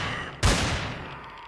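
A hand cannon fires once in the space survival game Empyrion Galactic Survival, a sudden loud blast with a long rumbling decay trailing off over a steady background hum.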